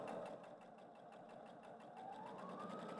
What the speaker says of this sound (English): So you're just gonna stitch all the way down 1/4 inch of the tubing.